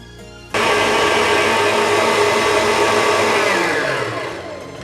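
An electric mixer kicks on abruptly and whirs loudly and steadily through coconut cookie batter in a bowl, its motor hum holding constant before easing off slightly near the end.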